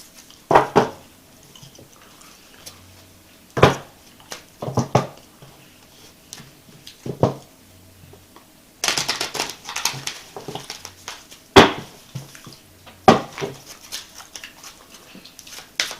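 Intermittent bursts of crisp tarot card shuffling, several quick riffles and flutters separated by pauses, close by with no voices.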